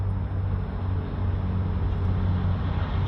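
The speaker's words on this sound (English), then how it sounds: "Some noise in the background from the interstate" Steady, distant interstate traffic heard from a highway rest area, a continuous low rumble and hiss with no distinct passing vehicles and no voices.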